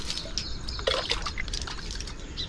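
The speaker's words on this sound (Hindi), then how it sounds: "मड़ई के अंदर देखिए पानी को छिड़कते हैं और चूल्हा साफ कर लेते हैं।" Water sprinkled by hand inside a thatched hut to clean a mud-plastered clay stove in a village kitchen, heard as scattered light splashes and drips, close and fairly quiet, with no talking.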